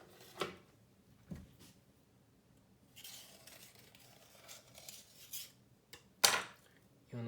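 Freshly steamed bread buns, just out after 45 minutes of cooking, are knocked out of their moulds with a few sharp, separate clinks and taps of metal on metal. The sounds come close and sparse against a quiet kitchen.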